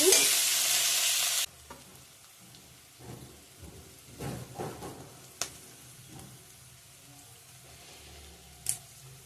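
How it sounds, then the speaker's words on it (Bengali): Garlic and other ingredients hit a hot pan for a country chicken gizzard dish, a loud, close sizzle that cuts off after a second and a half, followed by softer stirring clatter and scattered clinks. "একসাথে দিয়ে দিলাম সব তারপরে করে ভেজে নেব একটু"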